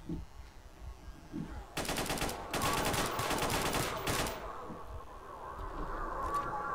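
Automatic rifle fire from the video game S.T.A.L.K.E.R. Call of Chernobyl tears through in long, rapid bursts, loud and close, with brief gaps between volleys and quieter game ambience before and after.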